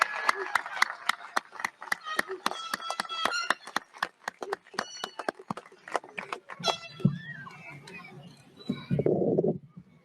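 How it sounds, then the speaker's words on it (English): Audience applause at a 2022 high school graduation commencement: a dense run of sharp claps that thins out and fades after several seconds, with voices and other hall sounds around it. "another big round of applause"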